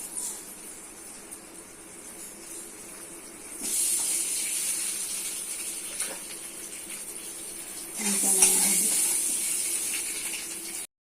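Eggs frying in hot oil with turmeric and salt make a soft hiss that swells into a louder sizzle, then flares again with a brighter spitting crackle before cutting off abruptly.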